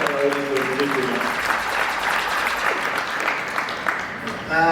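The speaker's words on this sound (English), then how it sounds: "Please a round of applause" An audience breaks into sustained applause to welcome guests at a jackpot winner's arrival event, the clapping dense and continuous while voices call out over it.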